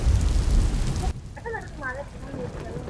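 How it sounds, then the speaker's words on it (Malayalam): Heavy rain pours in Bangalore for about a second as a dense, loud hiss, then drops away abruptly while a voice speaks over faint remaining patter. "ബാംഗ്ലൂർ മഴ പെയ്തിരിക്കുന്നു"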